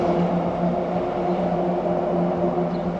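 A vehicle rolls over a grated bridge deck that works like a cattle grid, on a road trip in Tasmania. A steady, loud droning rumble with tonal humming holds throughout without a break.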